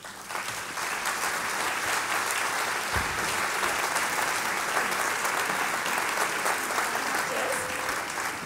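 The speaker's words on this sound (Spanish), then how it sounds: "La recibimos con un fuerte aplauso." Loud, sustained applause from an audience at a cultural event welcoming the director of an Indonesian folk dance group, a steady wash of clapping that fills the whole stretch without letting up.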